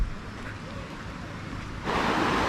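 Stream water babbles over stones at a hidden spot in Badlapur, a steady rushing wash that grows noticeably louder and fuller partway through, with no voices over it.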